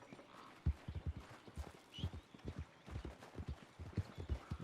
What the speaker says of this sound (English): Hearing the horse.